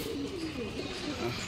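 A silver pigeon held in someone's hand gives a soft, low, wavering coo that runs continuously through the short moment, close and fairly quiet over faint background noise.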